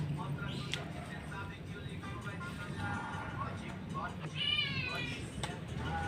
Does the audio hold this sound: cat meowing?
yes